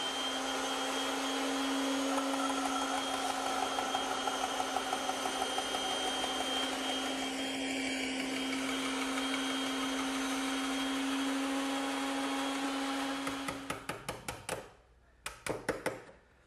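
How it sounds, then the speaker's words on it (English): Bandsaw cutting shoulders on wooden tenons in a woodworking shop, a steady close motor hum with a constant blade whine for about thirteen seconds, then winding down with a few fading clunks as it stops. "but I prefer to do it on the bandsaw."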